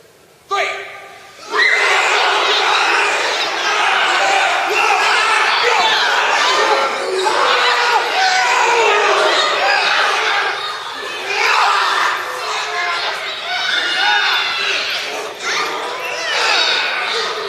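A convention crowd erupts on cue after a countdown: loud, sustained shouting, screaming and wild yells from many voices fill the room, surging and dipping in waves for the whole stretch after a brief quieter opening.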